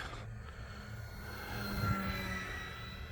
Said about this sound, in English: Just love flying this airplane.